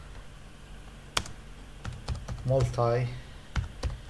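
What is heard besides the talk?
typing a Linux systemctl command on a computer keyboard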